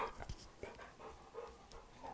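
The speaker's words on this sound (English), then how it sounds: "my dogs just came over to say hi to me" Pet dogs pant close by, with quick, breathy, uneven huffs and soft whimpery sounds over a brief stretch, heard without any talking.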